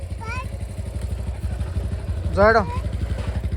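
A motorcycle engine idles close by with a rapid, even low throb as people talk over it.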